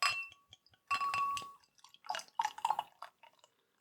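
St Peter's Without Elderberry & Raspberry, a dark beer, poured into a glass: close, intermittent dripping and splashing bursts with faint clinks of glass, broken by short pauses.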